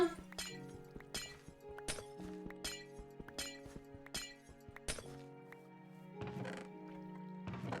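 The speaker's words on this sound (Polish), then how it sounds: "bierzemy nasz kilof i niszczymy szkło" In a Minecraft modpack, a pickaxe breaks glass blocks with a steady run of faint, crisp clinks and shattering taps about every three-quarters of a second, over a quiet background tone.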